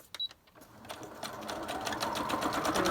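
A sewing machine stitches thick laminated lace onto a junk journal cover, starting with a few soft clicks and then settling into a fast, steady close rattle that grows louder.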